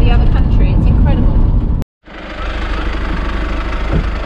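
A camper van's engine drones low and steady while driving along a road near the Syrian border in eastern Turkey, heard under talking, with a brief dropout partway before the rumble resumes.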